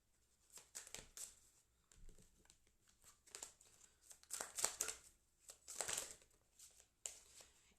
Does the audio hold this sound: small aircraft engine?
no